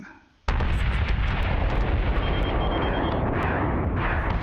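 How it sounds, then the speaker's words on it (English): Missile strikes in the space battle game Battlestar Galactica Deadlock, a sudden onset into a dense, continuous barrage of booming impacts and crackling bursts, loud and sustained. "How dare you missile me? That was some nice missiles."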